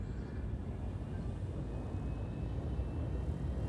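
A spaceship lifts off from an icy planet in a space video game, a steady low engine roar and rumble holding evenly throughout without any talk.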